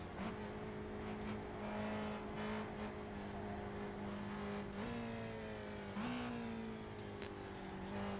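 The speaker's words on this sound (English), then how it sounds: "Nice hard downshifts there," Spec Racer Ford race car in the iRacing video game at Oulton Park: steady engine drone with sharp pitch jumps from hard downshifts near the middle and later, heard alone without talk.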